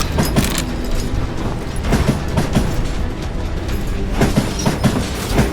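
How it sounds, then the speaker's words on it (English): A train in the western game GUN rolls along with a loud, continuous rumble and rattling clatter, punctuated by repeated metallic clicks and clacks. "Climbing around that train,"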